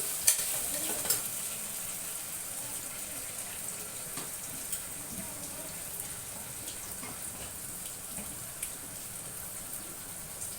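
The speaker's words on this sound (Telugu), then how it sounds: "దొండకాయలు నూనెలోనే బాగా వాడ్చుకోవాలన్నమాట" Steady broadband sizzle of ivy gourd frying in oil, with a couple of faint clinks early on; constant, moderately quiet crackle throughout with no talking.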